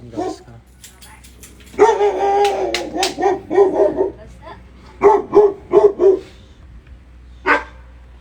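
Repeated deep barks from a big dog, close and loud, come in clustered bursts with short pauses between them and a final lone bark near the end.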